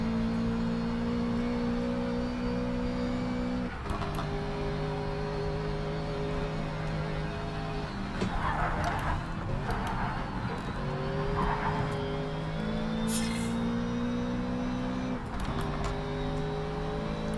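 Race car engine from Project CARS 3 droning steadily close up, with gear shifts stepping the pitch and brief tire scrubs over a kerb, running continuously without talk.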